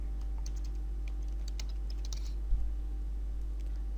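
Light, quick keystrokes on a computer keyboard in a quiet room, a steady patter of soft clicks over a low constant hum, with one slightly heavier tap.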